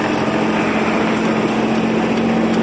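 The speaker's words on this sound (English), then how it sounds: "Got a little night ride with the Kubota." A Kubota RTV 900 utility vehicle engine drones steadily on a night ride, its loud, even hum holding a constant pitch throughout with no talk.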